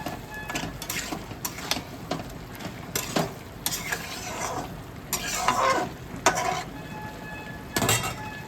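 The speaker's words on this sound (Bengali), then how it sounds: "এবার একটু নাড়িয়ে আমি একটু ঢাকা দিয়ে দেবো" A spatula repeatedly scrapes and stirs Bengali chorchori mixed vegetables in a pan finished with mustard oil, producing rhythmic scraping strokes over a soft sizzle, with no speech.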